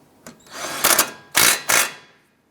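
Short bursts from a power tool tightening the brake caliper nut on a 2001-2007 Ford Escape front brake job, with a brief spin followed by two loud, close whirring runs.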